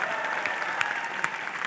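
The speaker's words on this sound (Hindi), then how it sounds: "पहले तो जोरदार तालियां विनायक पांडे सर के लिए" An audience in a large stadium hall breaks into dense, continuous applause, a sustained wash of clapping from many hands with no voices above it.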